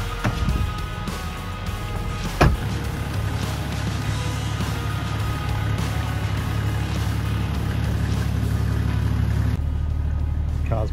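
Toyota Landcruiser 100/105 series driving with a trailer in tow, a steady low engine and road rumble holding throughout, with a brief knock or thump partway through.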